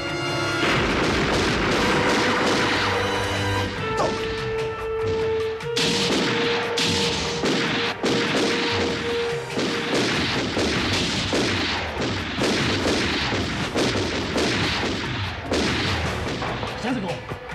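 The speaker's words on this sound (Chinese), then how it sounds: "开火" Heavy gunfire erupts in a dramatic scene, loud bursts and rapid shots overlapping with booms and crashes, with a sustained tone and voices mixed in beneath the continuous barrage.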